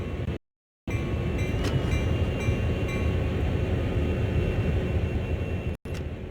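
A CSX heavy-haul diesel locomotive in Train Sim World rumbles slowly onto a turntable, giving a steady low engine drone with faint tonal whine, briefly cut by gaps of silence at the start and end.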